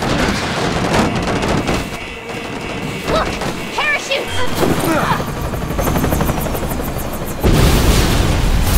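Helicopters thrum through a Resident Evil 6 action scene, their rotor chop mixed with crashes, impacts and gunfire, while characters shout over the din.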